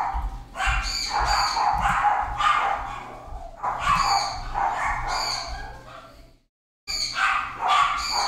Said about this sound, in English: Those freaking dogs.